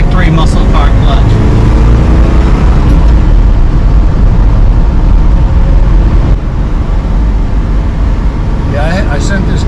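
A 1966 Oldsmobile 4-4-2 Track Pack with tri-carb setup and stock clutch drives along, a loud, continuous low-end engine rumble and road roar inside the cabin, with someone talking over it.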